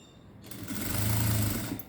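Sewing machine running steadily while stitching blouse fabric closed, a continuous close mechanical whir that swells after the first half second and holds for over a second.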